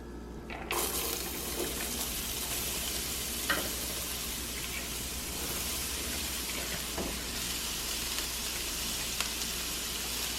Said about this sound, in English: I'm just letting the spices bloom a little bit before I put the onions in.